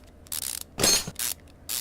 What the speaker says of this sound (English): Now I got to start pulling bolts.